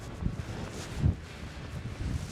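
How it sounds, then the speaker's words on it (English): Wind gusting across an open mountainside on the Dingle Peninsula in Kerry, Ireland, a low, rumbling buffet close to the microphone with brief stronger surges. "There's some wind after picking up there."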